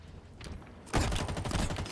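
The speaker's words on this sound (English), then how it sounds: "Grenade out." A grenade explodes in Halo multiplayer, a loud sudden blast about halfway through followed by a sustained roar of debris and rattling gunfire; quieter game noise comes before it.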